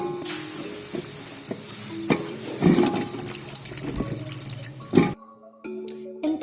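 Carrots dipped and swished in a bowl of water during washing for halwa, giving close, irregular sloshing and splashing with a few louder splashes near the middle and end, then a quieter pause.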